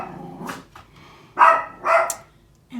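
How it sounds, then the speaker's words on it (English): A pet dog barks loudly and close by in an indoor room, giving a few sharp barks with short pauses between them and no talking over it. "And Bella took this exact moment to bark."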